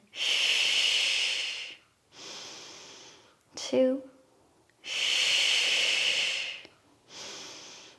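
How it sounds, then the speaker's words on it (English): Deep breathing in and out during a head-to-toe exercise session: long, loud breathy inhales and exhales repeat close up, with a brief voiced snort-like sound in the middle. "take a big breath in. Exhale, let everything go."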